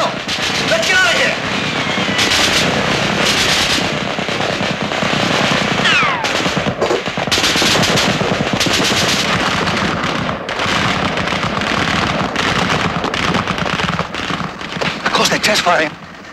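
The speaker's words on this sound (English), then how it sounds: "Testing guns in the dark?" Guns test-firing in the dark: dense, loud rapid bursts of gunfire run almost continuously, with brief gaps between volleys and a final flurry near the end.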